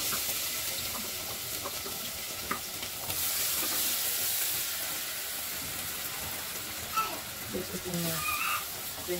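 Onion fries in a pan for a gizzard sauce, producing a steady, moderately loud sizzle, with brief stirring knocks and faint background sounds near the end.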